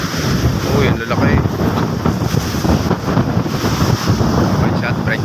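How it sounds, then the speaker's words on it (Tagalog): Big ocean waves roll in under strong wind, a loud continuous roar with heavy microphone buffeting and surging surf, close and unbroken, with faint voices underneath. "Lalaki ng alon."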